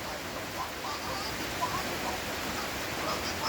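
Rain falls steadily, a soft, even hiss that stays constant throughout without any clear voices.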